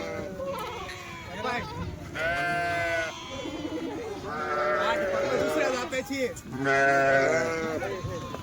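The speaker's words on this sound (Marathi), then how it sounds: "मेंढ्या बघा मेंढ्यांचं माप बघा एक नंबर क्वालिटी मेंढ्या" Tall Kathiawadi sheep unloaded from a livestock truck bleat repeatedly and loudly nearby, several overlapping calls rising and falling in quick succession.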